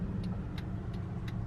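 Car traffic at a busy campus intersection, a steady low engine rumble of passing vehicles with faint repeated ticking, like a turn signal, near and continuous.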